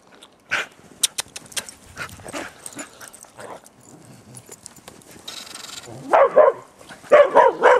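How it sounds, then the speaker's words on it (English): A dog barks in several sharp bursts amid scuffling and thumps while dogs play in the snow, with louder, rapid barking toward the end. "No barking."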